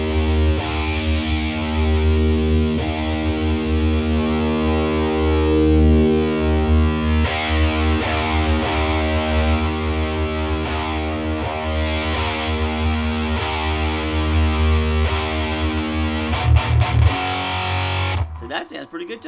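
An electric guitar played through a Boss Metal Zone distortion pedal gives a loud, sustained, heavily distorted chord with thick buzzing harmonics for most of the stretch, ending in a few choppy strums.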